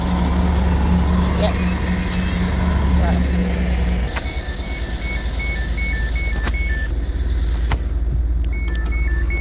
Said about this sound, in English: Guys, my train is here.